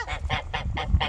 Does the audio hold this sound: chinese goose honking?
yes